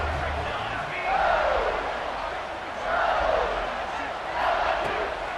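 Virtual stadium crowd in a College Football 26 game roars continuously, swelling in repeated waves of yelling and screaming, loud and dense throughout.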